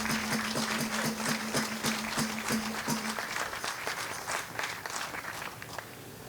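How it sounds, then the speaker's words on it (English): Outdoor crowd applauding a muralist and his family at a Lenape mural dedication, a steady wash of clapping that thins and fades toward the end after a brief tone at the start. "But I wish you would give him a round of applause and his family who came out to support this."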